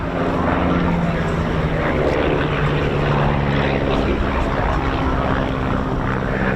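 Two de Havilland Chipmunk light training aeroplanes from the Battle of Britain Memorial Flight make a crossing pass at an RAF Cosford air show, their piston engines droning steadily and loudly throughout.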